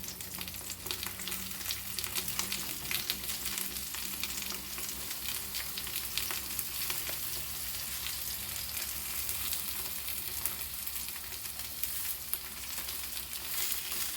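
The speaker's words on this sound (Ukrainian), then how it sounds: "Ляю трошки олії, нагрілася сковорідка і буду їх піджарувати." Eggplant slices fry in a little oil in a preheated pan, giving a steady, close, even sizzle with crackling that carries on without pause and with no voices over it.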